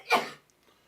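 A single short, sharp sneeze during a casual studio podcast chat about the NFL draft, bursting loudly and then fading quickly into near silence.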